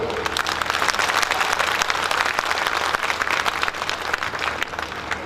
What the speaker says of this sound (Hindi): अब पूरा सदन एक बार ऐसी तालियां दे दे कि मैं अगले चरित्र की ओर आगे बढ़ूं।